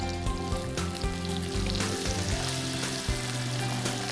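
Diced potatoes and green chilies with curry leaves fry in oil in a pan for poha, giving a steady loud sizzle with crackles and pops throughout and no voices.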